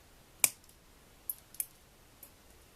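Cutting a metal chain link for a pendant: one sharp close snip, then a few softer clicks of the cutters closing, sparse and isolated against near silence.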